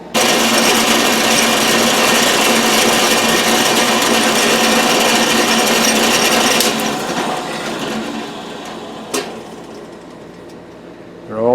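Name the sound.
drilling holes in an air manifold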